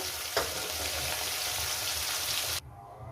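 Khoira fish frying in a pan of hot oil for a spicy jhal curry, a loud, steady sizzle with a brief burst near the start, cutting off abruptly near the end.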